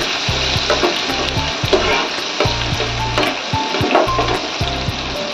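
Katla fish pieces rubbed with salt and turmeric fry in hot oil on a high flame, a loud continuous close sizzle with faint stirring, and no voices.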